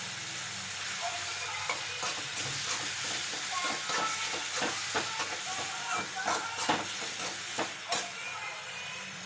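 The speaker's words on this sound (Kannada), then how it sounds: "ಇವಾಗ ನಾನು ಟೊಮೆಟೊ ಹಣ್ಣನ್ನು ಹಾಕಿದೆ. ಇದು ಚೆಂದಾಗಿ ಬೇಯಬೇಕು." Tomatoes cooking in a salted pan, giving a continuous soft sizzle and hiss with scattered crackles and pops throughout, fairly quiet and close, no voices.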